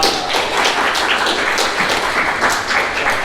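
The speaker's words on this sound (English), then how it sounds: "Let's once again give her a round of applause." A Toastmasters meeting audience gives a steady round of applause, many hands clapping together at close range for about three seconds.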